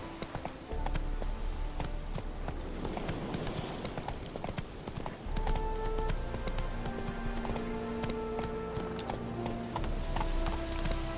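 Roach, the horse in the video game The Witcher 3: Wild Hunt, gallops with continuous rhythmic hoofbeats that stay close and steady from start to end, under a faint game soundscape. No one speaks.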